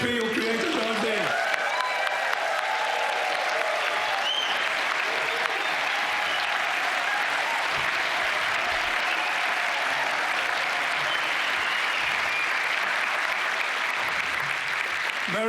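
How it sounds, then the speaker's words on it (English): A sustained round of applause from a large audience, steady and enthusiastic for about fifteen seconds, with a few voices faintly underneath. "give a huge round of applause to Steffi who created all this"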